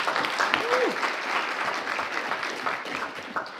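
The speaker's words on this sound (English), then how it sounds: "Please give them a warm round of applause." Warm round of applause from a conference breakfast audience, dense and sustained, with a brief whoop rising early on and faint voices mixed in.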